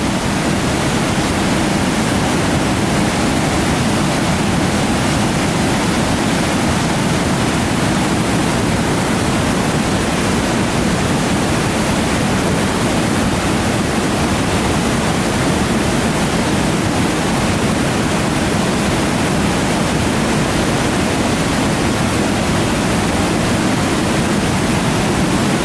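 Silver River Falls in Skanee, a waterfall roaring as a loud, steady, unbroken rush of water that stays constant throughout.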